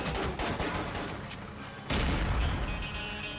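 Gunfire in the Quantum of Solace video game: dense bursts of rapid shots and booming impacts, loud and continuous, with a heavier barrage kicking in partway through.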